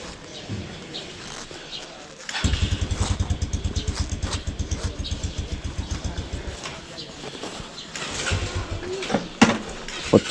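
RM 250 and XR 150 off-road motorcycles on an extreme off-road ride: after a quiet start, a close engine kicks in with a loud, steady pulsing throb that rises toward the end.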